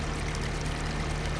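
A worker waters an apple orchard tree by hand in Farming Simulator, making a steady, even stream of pouring water with a low hum underneath, with no pauses across the short stretch.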